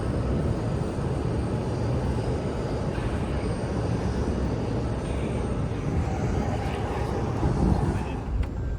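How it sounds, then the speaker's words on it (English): A loud, constant piston engine drone fills a small Cape Air aircraft cabin, a steady low rumble with a rushing noise that barely changes throughout. "the cabin is louder than most commercial aircraft"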